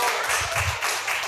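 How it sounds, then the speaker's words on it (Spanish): A short burst of audience clapping for a student at a literary talk, a dense steady patter of many hands that runs the whole moment without a break. "Un aplauso para su compañero"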